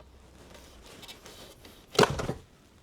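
An Odenwolf machete bites into dense wood with a single sharp chop, one loud impact after a quiet lead-in.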